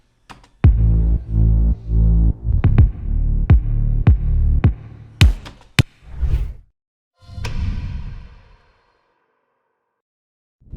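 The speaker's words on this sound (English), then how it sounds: "Check out how the kick and bass sounds together." Punchy kick drum locked with a deep bass line in an electronic track, the kicks hitting in a driving pattern with automated filtering and sweeps, breaking into sharp hits, a whooshing swell and a final low boom.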